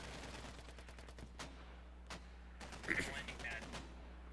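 Mortar and small-arms fire in the video game Squad crack out as a series of sharp reports, some rapid and some spaced, fairly faint and distant, with a voice speaking briefly partway through.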